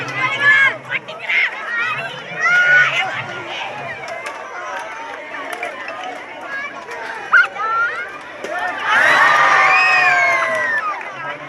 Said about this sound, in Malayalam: ചുറ്റും കൂടി നിന്നവർ കൈയടിച്ച് പ്രോത്സാഹിപ്പിച്ചു